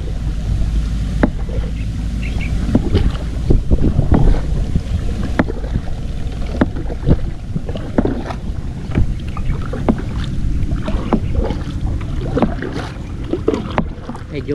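A strong river current rushes past a small rowboat near the bank, with continuous churning water, paddle splashes and knocks, and wind buffeting the microphone throughout, and no voices.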